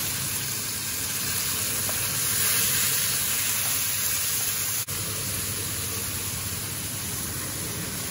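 Chicken seasoned with a teaspoon of smoked paprika sizzles steadily in a hot pan, a continuous broadband frying hiss that holds close and loud for the whole stretch with one brief clack partway through.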